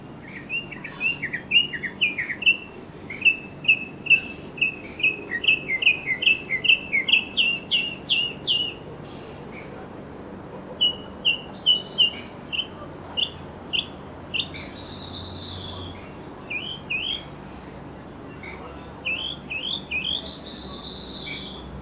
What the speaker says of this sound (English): I thought it might be one of the mockingbirds, which are constantly along here. Yeah, just listen to this one singing a second.